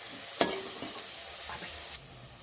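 Frying in a pan for ridge gourd and moong dal curry, a steady close sizzle with one sharp spatula clack near the start and a few softer scrapes, fading to a quieter hiss at the end.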